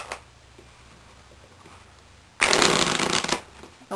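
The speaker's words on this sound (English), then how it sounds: "And we'll just shuffle them just to make sure." Playing cards riffled in a quick shuffle, a dense burst of crisp fluttering clicks lasting about a second after faint handling noise.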